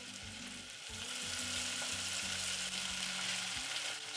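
Diced red onion frying in a pan with toasted spices for a salmon curry, giving a steady, close sizzle with a few soft stirring scrapes.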